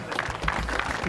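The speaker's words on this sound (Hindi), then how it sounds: "एक बार जोरदार तालियां हो जाए इनके लिए।" A short burst of crowd applause, dense overlapping claps at moderate volume, lasting about a second.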